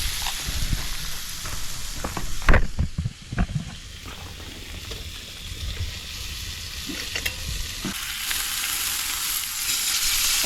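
Food sizzles and fries over a campfire while camping, a steady crackling hiss with a few sharper pops and clatters, loud and close.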